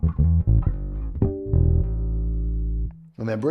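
A Fender American Professional Classic Jazz Bass with a maple neck, played on its bridge pickup: several plucked notes, then a long sustained note that rings out before a final pluck, loud and close.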